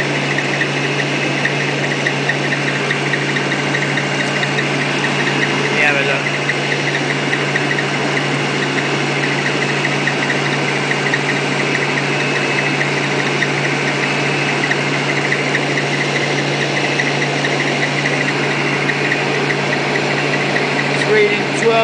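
A rotoverter motor runs at about 1200 RPM, producing a continuous, even, loud mechanical hum with a steady whir and no breaks for the whole stretch.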